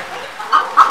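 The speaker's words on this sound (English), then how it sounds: "Without forgetting the Brahima chicken." Chickens on an ornamental bird farm let out a few short clucks, close and fairly loud, in quick succession after a quieter stretch.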